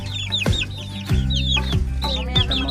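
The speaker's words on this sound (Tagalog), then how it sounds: "Ito po ang mga sisiw." Two mother hens cluck in low bursts while two-month-old chicks peep continuously in high, rapid chirps, all close together.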